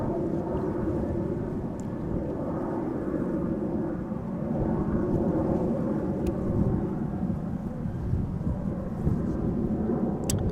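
A distant airliner climbs away after taking off from runway 24 at Amsterdam Schiphol, a low, rumbling roar that swells gently and stays faint throughout.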